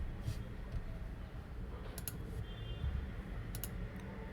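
Quiet, scattered keystrokes on a computer keyboard as code is typed, with soft clicks coming in small bursts over a low room hum.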